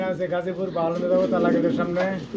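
Pigeons cooing at a pigeon seller's stall, a close, throaty rolling coo that runs throughout, with talk mixed in.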